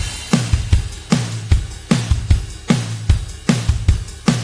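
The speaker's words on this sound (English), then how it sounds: "The main chorus section is just a full-on groove with the ride cymbal" A full pop country chorus drum groove with punchy kick and snare hits under a constant shimmering ride cymbal, driving and loud, no talking.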